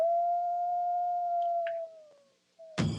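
A single Minnesota wolf howls in one long, steady, clear tone that slowly falls away, followed by a short rising note and then a sudden burst of broadband noise at the end.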